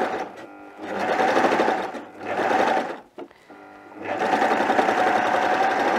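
A serger-style sewing machine runs in three bursts, loud and close, while stitching a three-layer romper seam with edge trimming, pausing briefly between runs as the fabric is turned.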